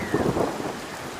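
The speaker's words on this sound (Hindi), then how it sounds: "पता नहीं ये बारिश कब रुकेगी।" Heavy rain pours steadily in a cartoon jungle storm, with a low rumble of thunder rolling under the downpour. The dense hiss stays close and loud throughout, with no talking.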